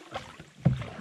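Canoe paddling on the Dogfish River, an obscure Ontario waterway: a couple of soft paddle strokes and water splashes close by, with a louder splash near the end, quiet and brief.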